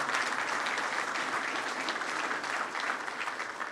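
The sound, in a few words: audience applause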